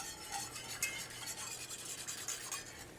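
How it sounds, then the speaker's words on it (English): Thickener being whisked into stock for a chicken and roasted fall vegetable stew: a faint, rhythmic scraping and swishing of a whisk against the pot, repeating steadily with no talk. "So we'll whisk this until it starts to thicken."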